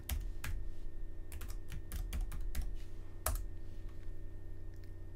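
Keys clatter on a computer keyboard during drafting work on a floor plan, coming in quick bursts of close, crisp clicks with short pauses between them over a steady low background hum.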